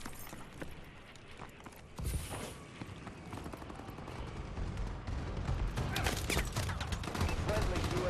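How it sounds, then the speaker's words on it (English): A Call of Duty friendly bombing run rumbles through a long burst of dense gunfire and explosions, swelling louder after a sharp onset and staying thick and continuous to the end. "Friendly bombing run clearing the way."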